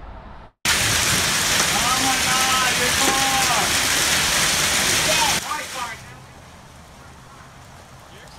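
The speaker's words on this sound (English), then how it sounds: "showing hail coming down in Frisco earlier this evening" Hail pounding down during a storm in Frisco, Texas makes a dense, loud roar that fills most of the clip, then thins to a lighter patter near the end; an alarmed voice cries out early on.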